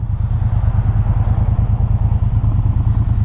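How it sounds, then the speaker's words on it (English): A 2018 Triumph Bonneville Speedmaster motorcycle idles at a stop, its exhaust giving a steady, close, low rumbling burble with an even pulsing rhythm throughout. "you've got a nice sound of the exhaust"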